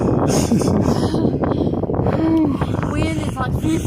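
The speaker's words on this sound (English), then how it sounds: "Wind is like 50 freaking miles per hour." Strong gusting wind, around 50 miles per hour, buffets the microphone on the Appalachian Trail near Clingmans Dome in the Smoky Mountains, a loud continuous roar.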